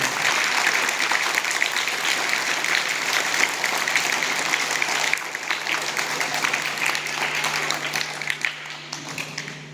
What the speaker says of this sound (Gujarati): એમના માટે જોરદાર તાળી